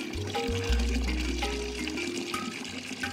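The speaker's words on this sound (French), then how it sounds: "les enfants doivent utiliser un robinet pour remplir le seau qui leur servira à se laver." Water running from a tap into a bucket in a house in Saint-Louis, a steady rushing splash with a low gurgling fill, continuous and fairly close, no talk.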